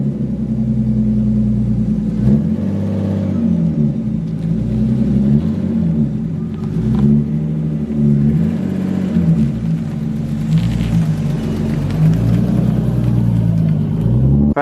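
A lowered R33 Nissan Skyline creeping up a driveway, its engine droning low with repeated rising and falling revs as the driver feathers the throttle, close and steady throughout.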